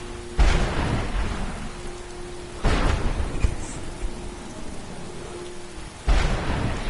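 Thunderstorm in the video game Skyrim: steady rain hiss with three loud, sudden thunder cracks rolling out at intervals, the strikes close and heavy.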